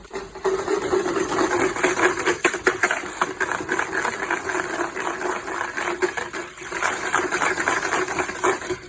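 Milk replacer and water being whisked by hand in a tub for calf feeding, a rapid, steady rattling churn with splashing liquid that carries on for several seconds.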